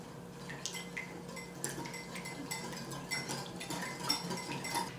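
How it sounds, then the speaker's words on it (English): BBQ sauce of garlic powder, onion powder, salt and smoked paprika whisked in a bowl, a steady run of light metallic clinks and scrapes close by, with no talking. "Then you just whisk this all together"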